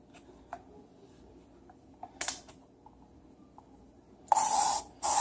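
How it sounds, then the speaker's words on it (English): A few faint clicks and taps, then two loud hissing bursts of aerosol spray, the first about a second long, the second shorter. "grease this pan with butter spray"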